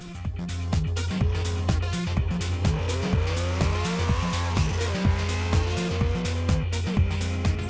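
A race car drives hard with tires squealing and skidding through turns, engine revving in steady loud pulses over a continuous screech.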